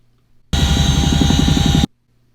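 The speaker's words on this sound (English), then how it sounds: "here is the video from inside that helicopter" Helicopter heard from inside the cabin: a loud, steady engine and rotor roar with a fast rhythmic chop, lasting just over a second and starting and stopping abruptly, no voices.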